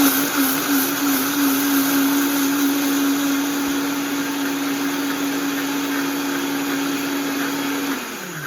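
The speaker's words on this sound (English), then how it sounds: "But let's go ahead and blend this up." A blender runs continuously, blending quinoa bread batter with Celtic salt, a loud steady motor whine that holds for about eight seconds before winding down at the end.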